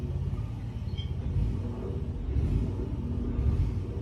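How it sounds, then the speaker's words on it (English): A car engine idles outside, a low continuous rumble with slight swells in loudness, steady and moderately distant, with no talking over it. "I think it's a car, so I think it's gonna leave."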